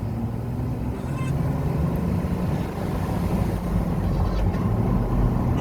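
A vehicle on 35-inch tires with a 6-speed gearbox and 488 gears pulls in second gear, its engine droning loudly and steadily at close range with a rough low rumble throughout.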